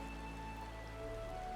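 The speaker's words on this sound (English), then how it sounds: "And it's still raining here, of course it would be." Soft, steady rainfall in the Final Fantasy XIV game world, a faint continuous patter of drops behind a quiet tonal ambience.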